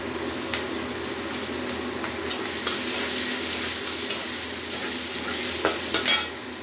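Onions sizzle and fry in hot oil tempered with fenugreek seeds, a steady crackling hiss with occasional stirring clinks, close and continuous throughout.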